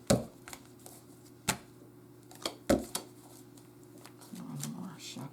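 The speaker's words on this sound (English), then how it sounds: "One more shuffle here." Tarot cards shuffled by hand in a few sharp, brief riffling bursts spaced over several seconds, with a low steady hum underneath and faint murmuring near the end.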